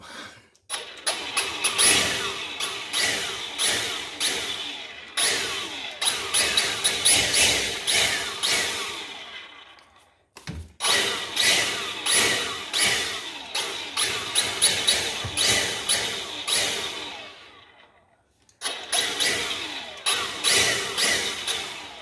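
A vacuum cleaner runs in blower mode, pushing air down into a dusty cold air return of a two-story house, a loud steady roar cut by brief pauses and restarts.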